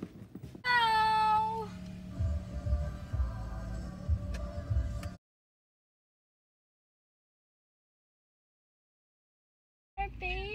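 Young foster kittens meow loudly and repeatedly at close range, a string of high, rising cries over rustling handling noises, then a long silence before the sound briefly resumes.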